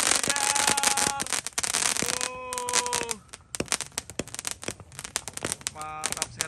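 Crowded New Year's Eve fireworks and firecrackers in Indonesia, dense sharp cracks and bangs bursting continuously at close and middle distance, with whistling rockets and voices shouting underneath.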